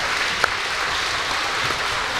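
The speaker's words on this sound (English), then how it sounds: "Give him a round of applause, too." A crowd at an OHSAA boys tournament basketball game between Shenandoah and Hiland gives dense, steady applause through a gym, with one sharp clap standing out early.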